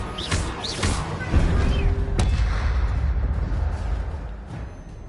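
Incendio fire spell cast in a Harry Potter video game, a burst of whooshing magical effects with a heavy boom and rumbling crackle that carries on for several seconds.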